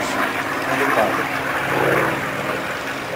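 Single-engine Corsair propeller fighter flying at an air show, a steady droning engine roar held throughout the short stretch, with someone talking over it.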